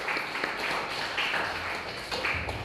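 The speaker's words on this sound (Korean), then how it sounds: "박수 한 번 더 쳐주십시오." A church congregation at a Sunday worship service claps together, a dense, moderately loud round of applause with scattered sharper claps, sustained through the short stretch.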